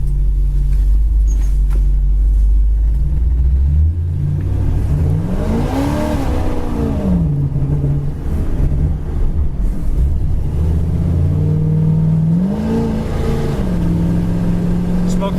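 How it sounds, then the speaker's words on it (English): A blue 1964 Chevrolet Impala SS with a big-block V8 rumbles loudly up close, then its engine note rises and falls through a hard acceleration as the tires are smoked, before settling back to a steady roar. "Smoked the tires a little much there."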